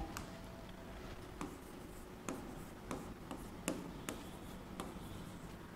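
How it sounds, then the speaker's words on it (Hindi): Marker or chalk writing a maths question on a board during a CSAT number-system lesson, a series of soft scratchy strokes with sharper taps at intervals, fairly faint over low background hum. "मैं एक क्वेश्चन आपके सामने लिख दे रही हूं"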